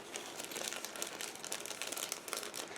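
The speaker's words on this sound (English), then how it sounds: "I will remove them out of the plastic bag" Plastic bag crinkles continuously up close, a quiet, dense rustling with small sharp crackles throughout, as parts of a 1/48 scale model aircraft armament kit are taken out.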